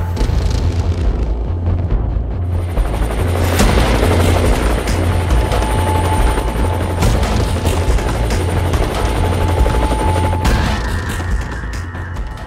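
An Indian Army Rudra military helicopter, armed with guns, thunders nearby with a loud, continuous rotor thrum and whining turbine, sustained throughout without speech.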